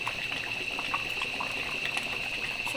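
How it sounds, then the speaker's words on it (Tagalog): Hot water is poured into a pot of chicken, giving a steady, faint bubbling trickle close by that continues without pause, with no voices. "susunod natin lalagay guys is yung mainit na tubig para lumambot ang manok"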